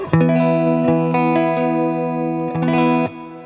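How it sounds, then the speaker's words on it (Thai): Sustained electric guitar chords through an EBS Dynaverb reverb pedal ring out with a spacious reverb tail, two strums, the second fading into a brief decay before cutting off. "ไดนาเวิร์บอันนี้จะเป็นเสียงรีเวิร์บนะครับ"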